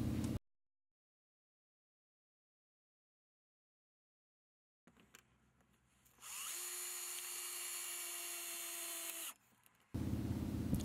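A power drill drives 2.5-inch screws into wooden braces for a backyard ice rink, one loud, close, steady whir lasting about three seconds after a stretch of near silence.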